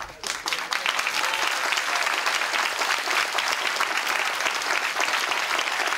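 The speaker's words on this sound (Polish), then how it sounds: "Krzysiu, ukłoń się Państwu, a Państwu dziękuję za brawa" Steady, loud audience applause at a club meeting with speedway riders, a thick wash of many hands clapping for several seconds after a short quieter start.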